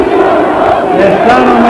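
A huge crowd at an Andreas Papandreou rally in Patras roars and chants loudly, a dense, sustained wall of massed voices filling the brief moment.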